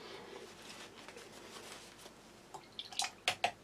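A spoon being rinsed with water, heard as faint, quiet running water that ends in a few distinct drips and small splashes.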